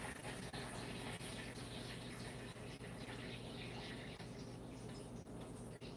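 Butter just beginning to sizzle in a hot pan, a faint, even hissing crackle that runs steadily throughout with a few tiny pops, heard alone.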